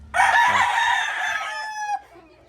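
A rooster gives a single loud, close crow lasting about two seconds at a backyard chicken coop, with faint clucking from other chickens underneath.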